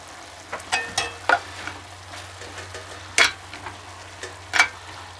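Chili powder, cumin, garlic salt and lemon pepper stirred into a cowboy rice casserole in a skillet: a low sizzle beneath irregular sharp scrapes and clinks of a utensil against the pan, about eight distinct strokes.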